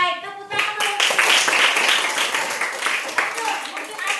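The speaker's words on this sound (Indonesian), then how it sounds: "Tepuk tangan dulu" A classroom of pupils claps hands together in dense, lively applause lasting a few seconds, following a brief moment of speech.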